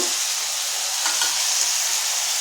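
Spiced potato masala sizzles loudly and steadily in a hot pan as eggs go in, a dense, even frying hiss close by, with a couple of soft knocks and no voices.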